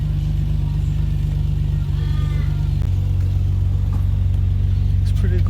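Car engine with a smaller aftermarket muffler, cold and idling with a steady low exhaust drone and a slight rise in pitch partway through, while people talk nearby.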